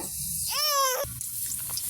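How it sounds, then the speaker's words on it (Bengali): Bengali fritters deep fry in oil with a close, steady sizzle, briefly overlaid by a short rising voice-like tone before the frying continues alone. "তো এইভাবে সবগুলো আমি ভেজে নেব।"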